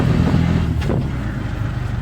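Auto rickshaw engine pulling away on the road to a waterfall, a steady close drone with a brief rise in revs midway.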